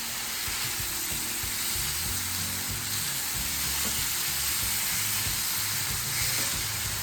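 Shawarma Cajun lamb chops sauté in hot oil, giving a dense, unbroken hiss of frying that stays loud and close for the whole stretch with no voices.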